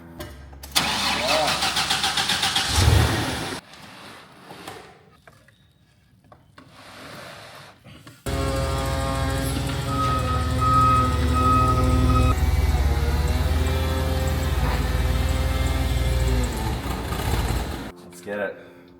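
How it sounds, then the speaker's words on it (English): Engine of a Toyota Supra 2JZ being readied for a forklift lift turns over and runs in a steady, loud drone for about ten seconds, after a stretch of voices and clanking workshop noise. "let's get this bad boy on the forklift and get it happening"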